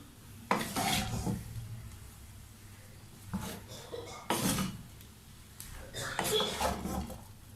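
Spring roll vegetable filling is stirred and mixed in a pan, a utensil scraping and clattering against the metal in irregular bursts with faint sizzling underneath, fairly quiet and close.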